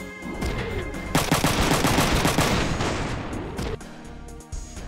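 Machine gun fire in the video game Front Mission 3, a loud sustained burst of rapid automatic shots with heavy low impacts that cuts off abruptly near the end.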